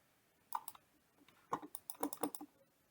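A computer mouse clicks on the File menu in the Eclipse IDE, with a few sharp, close clicks in quick bursts separated by near silence.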